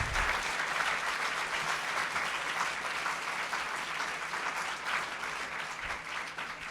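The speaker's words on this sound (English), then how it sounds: "I think that's worth another round of applause" Sustained applause from a live audience at a Dan Brown book launch event in Union Square, New York, a dense steady wash of clapping that holds for several seconds without pause.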